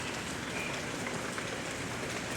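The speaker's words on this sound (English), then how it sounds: "Look at all that rain." Heavy rain in a video game pours down as a steady, even hiss of drops hitting surfaces, moderately quiet and continuous with no talking.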